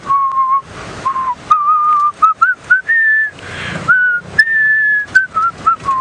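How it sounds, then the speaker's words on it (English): A person on a safari drive whistles a wavering rendition of a tune alone, clear sustained notes with short breaks, some phrases rising and falling, fairly close and steady in loudness. "My whistling is obviously horrible,"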